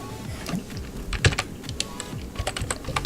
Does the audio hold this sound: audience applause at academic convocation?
no